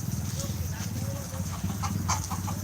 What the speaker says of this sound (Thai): ทีนี้จะมีไก่นะครับ